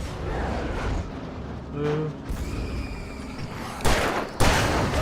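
Loud, rumbling explosions and gunfire from the video game Alan Wake fill the scene, with two sharp blasts near the end over continuous noisy combat.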